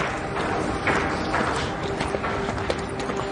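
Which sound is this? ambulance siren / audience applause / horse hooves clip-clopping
horse hooves clip-clopping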